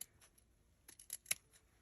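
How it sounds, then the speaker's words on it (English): Scissors snip the trim off a piece of paper for a journal page, a few quick, faint crisp cuts close by, with one sharper snip standing out. "from where I'm cutting the trim off, this piece"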